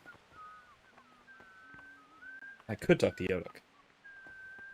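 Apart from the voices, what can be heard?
character whistling in Kingdom Come: Deliverance video game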